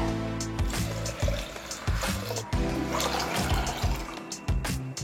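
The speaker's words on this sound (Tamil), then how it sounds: "1 டம்ளர் பழுத்தம் பருப்புக்கு நான் 6 டம்ளர் தண்ணி சேர்க்க போறேன்" Water splashes and trickles in uneven bursts as it is poured into a pressure cooker holding rice and split lentils for pongal, close and moderately loud, with no speech.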